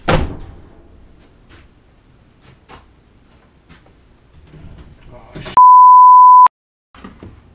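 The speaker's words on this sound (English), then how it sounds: "Door blew shut." A door blowing shut in a workshop, a single sharp thump at the start that fades quickly, followed by faint knocks and a long electronic beep later.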